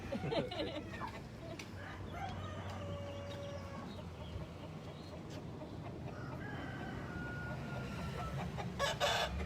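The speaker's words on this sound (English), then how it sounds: "This is my bitchy hen." Sick hens cluck continuously amid busy farmyard noise in Lake Elsinore, a steady chorus of close and distant clucking with no clear pauses.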